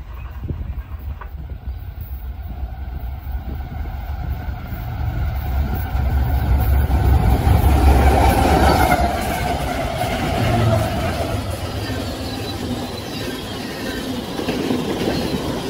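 A CSX freight train passes, its rumbling wheels and clickety-clack of railcars building to a loud peak midway and continuing steadily, with faint wheel squeal and no talk.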